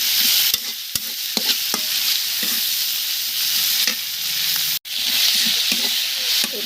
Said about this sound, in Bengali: এটা আমি সুন্দরভাবে নেড়ে নেব।